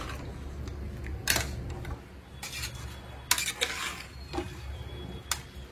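A spoon scrapes and clinks against a pan while salt, turmeric and chili powder are stirred into mutton, with irregular rasping strokes and metallic taps over a low background hum, close and without speech.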